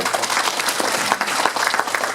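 An audience at a lecture in Houston gives sustained, dense applause, steady close clapping from a large crowd with no break.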